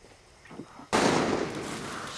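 A gunshot cracks out in Far Cry 6 after a few quiet seconds, a single sharp, loud report that trails off into a lingering echo.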